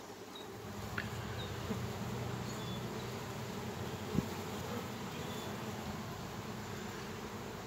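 Honey bees, apparently poisoned, buzzing around their hive: a faint continuous drone of many insects close by, with a few brief individual flybys and one small knock partway through.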